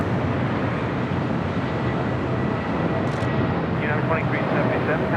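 A jet airliner roars loudly and continuously as it takes off from runway 25 right at LAX, a dense, steady engine rumble filling the clip with no one speaking.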